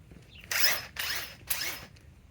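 A RIDGID R872081 subcompact 1/2-inch impact wrench on a 6 Ah lithium battery runs in three short, quiet hammering bursts, each lasting about a third of a second, separated by brief pauses.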